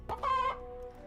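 A chicken in the video game Necromancer's Tale gives a short, close cluck followed by a drawn-out squawk, one brief burst and then a fading tail.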